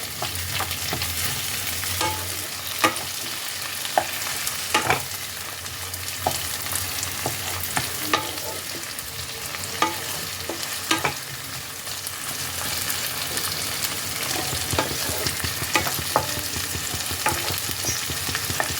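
Onion and chopped tomato fry and get stirred in a pan for palak paneer, with a steady close sizzle broken by repeated scraping strokes of the spoon, and no talking.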